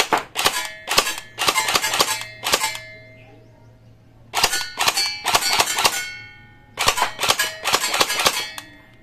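A Cyma MP5 gel blaster fires on semi-auto at a range, sharp metallic shots in three quick bursts of rapid single reports separated by short pauses, loud and close.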